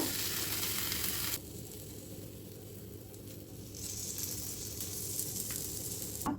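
Thalipeeth, a sesame-studded flatbread, sizzles on a hot tava griddle: a loud crackle that drops to a softer, low fizz, then rises again into steady frying with a sharp rustle at the close, no voices.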